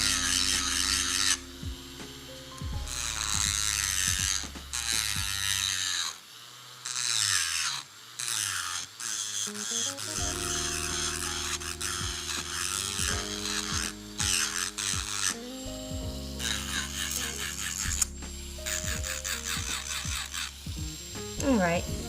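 An electric drill fitted with an Amazon drill bit runs at low RPM, giving a steady grinding, rasping whir that starts and stops in bursts over about twenty seconds, with no other sounds competing.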